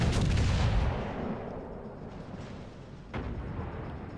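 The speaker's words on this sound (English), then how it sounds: "The Vanguard guns are great." Main battery guns of the battleship HMS Vanguard in World of Warships: Legends fire in a heavy booming salvo that rumbles and decays, followed later by another sharp report, loud and close with no voices.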